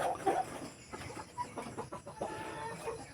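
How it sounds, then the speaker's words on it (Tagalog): Free-range chickens on a farm, including a rooster, making short clucks and throaty calls close by against quiet outdoor background. "Ito na yung kanilang tandang."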